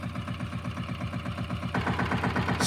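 An ATV engine idles slowly and steadily after repairs from a fire, a close, loud low throb with an even pulsing beat that grows a little brighter and louder near the end.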